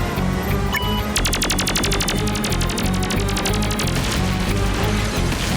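Rapid burst of cartoon gunfire in a Motu Patlu battle scene, a fast rattling volley lasting a few seconds over a dense, loud background score.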